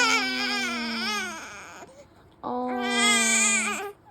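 Newborn baby girl fussing and crying in two drawn-out, wavering bursts separated by a short quiet gap, close and fairly loud, with no talking.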